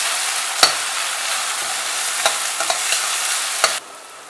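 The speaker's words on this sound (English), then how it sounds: "I'm going to add some ginger garlic paste. And I'm going to cook this for about another 2-3 minutes" Onions frying in a pan with ginger garlic paste while being stirred, for an aloo gobi dish; a steady loud sizzle with occasional scraping clicks of the spoon, cutting off abruptly near the end.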